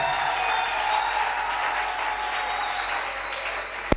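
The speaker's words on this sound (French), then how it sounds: "Est-ce que tu peux encore acclamer très bien pour le Seigneur?" A church convention audience applauds for the Lord, a steady, moderately distant patter of clapping hands that holds evenly throughout and ends with one sharp knock.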